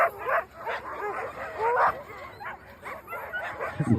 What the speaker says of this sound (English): You're watching a dog sled team move around through Greenland.